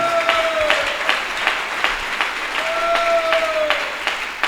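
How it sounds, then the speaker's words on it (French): A church congregation claps together at a Sunday service, steady loud applause with a faint voice drifting in the background. "Qui peut acclamer pour la gloire de Dieu?"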